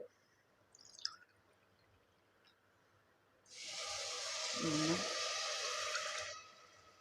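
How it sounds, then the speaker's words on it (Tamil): After a few faint drips, water is poured steadily into a cooking pot for venpongal for about three seconds, a close, rushing splash that then stops. "இப்போ நம்ம தண்ணி சேர்த்துக்கலாம்"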